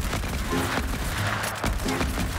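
A rifle blasts away in Fortnite during a Squid Game style match, a dense, loud burst of rapid gunfire that fills the whole short stretch without pause.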